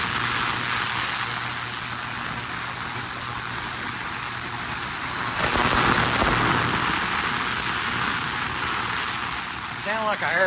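An ultrasonic parts cleaner runs with its water vibrating, giving a steady broadband hiss and buzz throughout with a slight swell midway, near and continuous.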